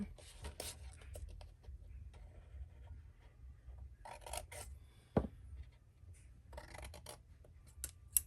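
Paper being cut and mitered for a recipe box insert, faint scattered snips and scraping rasps in a quiet room, with a sharp click partway through.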